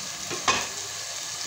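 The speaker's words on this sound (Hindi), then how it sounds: "जब तक हमारे टमाटर नहीं गल जाते तब तक हम इसको भूनेंगे।" Tomatoes fry with red chilli and turmeric in a pan: one quick stirring scrape rises over a soft, close sizzle, with no talking.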